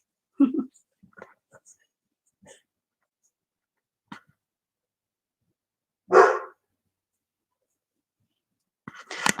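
A pet dog in a home gives a few short, quiet barks, spaced irregularly and heard fairly close, separated by soft rustles and near-silence.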